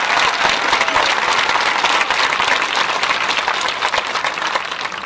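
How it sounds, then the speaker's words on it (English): Graduation ceremony audience gives a loud, sustained round of applause, thick continuous clapping from a large crowd that eases only slightly near the close. "Have another round of applause."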